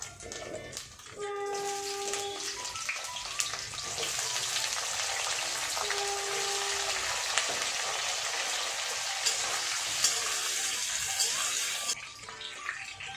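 Potatoes tossed into a wok with chunks of coconut for a jackfruit curry set off a steady, hissing sizzle after a few clattering knocks, holding fairly even before fading at the end.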